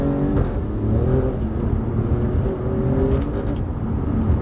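An Alfa Romeo Giulia Quadrifoglio engine revs with its exhaust valves open, a loud, steady, close-up mechanical drone that swells slightly in places and continues throughout.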